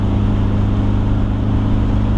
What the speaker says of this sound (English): Like this truck, it gets up to speed like it's nothing.